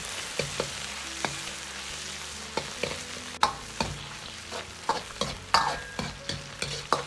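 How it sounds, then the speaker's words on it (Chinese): Pork belly slices stir-fry over medium heat in a wok, hissing with a continuous sizzle while a spatula scrapes and clacks against the metal in irregular repeated strokes. "下入五花肉片，炒出多余的水分，炒出香味"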